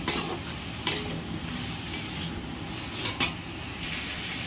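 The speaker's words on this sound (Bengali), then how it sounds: "আলুগুলো দিয়ে একটু ভালো করে ভাজা ভাজা করব" Potatoes are stir-fried in spiced oil for a soyabean curry, a steady close sizzle broken by a few sharp scrapes of a spatula against the pan.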